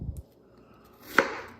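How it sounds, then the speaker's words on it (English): Kitchen knife cutting down through an onion on a cutting board during gumbo prep, one crisp chop landing near the end after a near-silent pause, with a duller knock at the start. "we're going to make the same cuts going down through the onion"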